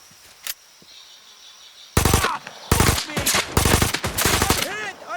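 In the dinosaur shooter game Ferocious, loud bursts of automatic gunfire break out in several rapid volleys after a brief quiet spell, with a single early shot and faint game ambience behind.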